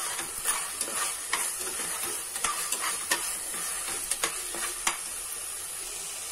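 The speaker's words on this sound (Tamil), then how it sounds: "காய்கறி போட்டுட்டு நல்லா இதை நம்ம வதக்கி விட்டுக்கலாம்." Vegetables for veg kurma sizzle and fry in a pan while being stirred, with steady hissing broken by repeated sharp scrapes and clinks of the spoon against the pan.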